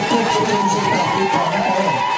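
A church congregation cheers and applauds during a Sunday service, a dense, steady wash of voices and clapping filling the room at close range for the whole moment.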